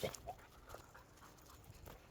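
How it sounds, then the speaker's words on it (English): A dog pants in quick, breathy bursts during an outdoor walk, faint and close to the microphone, with rustling in the background. "Sorry if you can hear all the panting, by the way."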